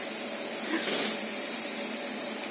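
A household vacuum cleaner runs with a steady, broad whooshing hiss that swells briefly near the start, heard indoors at moderate loudness with no talking.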